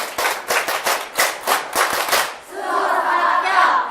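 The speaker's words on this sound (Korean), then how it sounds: "자, 박수 할 번 치고 준비!" At a Korean exam-prep information session, an audience claps in unison as directed, a series of sharp, loud, rhythmic group claps, followed by a shouted group chant.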